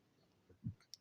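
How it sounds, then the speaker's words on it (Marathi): A single mouse click on a website's Go button, a short faint tick near the end, preceded by a slightly louder soft low thump. "आणि गो बटनावर क्लिक करूया"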